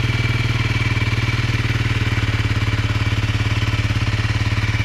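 A Honda CRF300L motorcycle engine, in first gear, runs close and loud with a fast, even, steady pulsing beat throughout and no talk.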